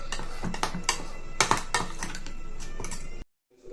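A spoon stirs chili powder and salt together in a bowl for masala idli fry, rapid close scraping clinks against the dish that stop abruptly into silence.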